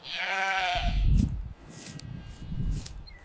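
A sheep gives one loud, wavering bleat close by, followed by rustling and low thumping movement.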